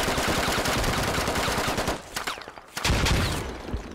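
Rapid bursts of automatic gunfire and explosive grenade blasts in the tactical shooter game Squad, loud and dense, dropping briefly to near silence before another heavy burst of fire resumes.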